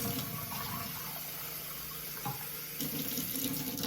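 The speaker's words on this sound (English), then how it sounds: "What I'm going to do to start is get some hot water going." Hot water runs from a tap into a sink in a steady, hissing splash that stays constant throughout, fairly close, with no voices.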